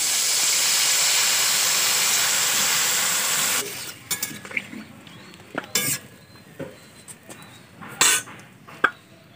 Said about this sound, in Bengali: তরকারির ঝোলটা ফুটছে